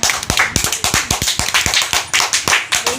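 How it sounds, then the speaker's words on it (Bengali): Audience applause at a Rabindra Jayanti evening celebration of dance, song and poetry, welcoming a dancer: steady, loud rhythmic clapping from a group, continuous throughout with no voices. "তাহলে নন্দিনীকে স্বাগত জানাই সবাই মিলে একটা করতালির সাথে"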